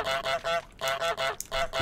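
A goose in the video game Untitled Goose Game honking repeatedly, about six loud, close, nasal honks in quick rhythmic succession, heard on their own.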